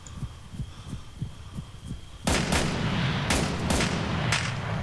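Gunfire in the Breaking Point video game: a run of soft thumps is followed by a sudden loud burst of shots and booming reports, with several sharp cracks rising over a sustained rumble and no speech.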